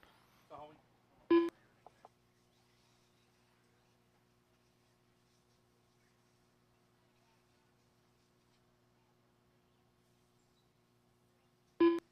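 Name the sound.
RC race timer beeping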